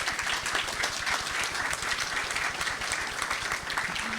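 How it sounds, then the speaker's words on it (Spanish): Dense audience applause at a climate and forests governors' conference, many hands clapping in a continuous, loud, even roar that holds steady from start to finish. "Quiero que todos se unan con un aplauso para agradecer a Jason por visitarnos"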